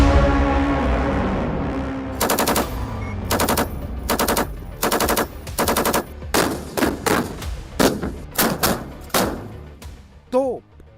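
Bursts of automatic gunfire crack out in rapid rhythmic volleys, loud and close, with a few single shots and a brief voice near the end.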